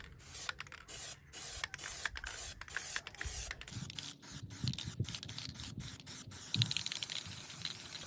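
Plasti Dip rubber coating sprayed from an aerosol can onto car rims in a light first coat, heard as close hissing bursts broken by short pauses, then softer scraping and rubbing noises, with no talking.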